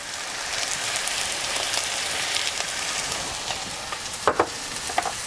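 Chopped garlic and brown sugar sizzle in a pan with kale and onion, a steady close frying hiss throughout. A few light clinks of stirring sound near the end.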